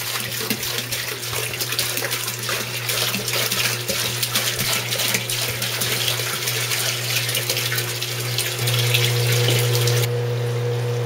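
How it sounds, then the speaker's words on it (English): Demineralized water pours into an indoor aquaponics system as a loud, steady gush over a constant pump hum. The pour runs continuously and close by, with no talking. "This is the demineralized water that we're adding to the system right now."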